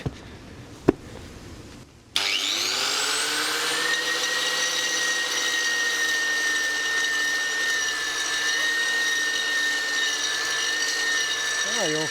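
A handheld power grinder is held flat against a concrete surface to sand a small area, its loud steady whine kicking in after about two seconds of quieter room noise and running continuously to the end.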